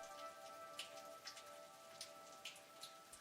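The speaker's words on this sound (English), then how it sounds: "I can hear the rain." Rain falls steadily in a video game about building steel production, soft patter with scattered brighter drop ticks over a constant hiss, faint and alone.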